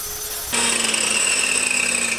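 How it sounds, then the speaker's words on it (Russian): An angle grinder mounted on a Russian-made pendulum stand from Smolensk cuts into brick, starting abruptly with a loud, steady high-pitched whine that holds close and continuous after a moment of quiet. "режем на маятнике. То есть черта не смывается, болгарка, поставленная на стойку"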